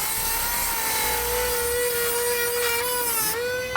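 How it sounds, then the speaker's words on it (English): Rotary tool grinding out an access hole in the steel frame of a 2015 Subaru XV Crosstrek while fitting a Curt trailer hitch receiver, a steady loud high whine that dips in pitch near the end as it bites, with no talking. "I'm going to use a rotary tool to enlarge it"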